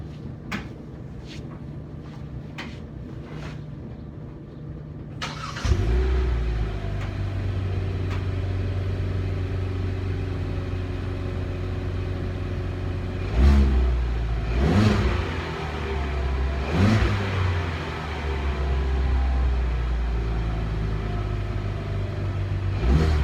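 A 2020 Hyundai Veloster 2.0 with stock muffler idles, then starts and revs several times in short bursts, each rising and falling, with a steady exhaust drone between.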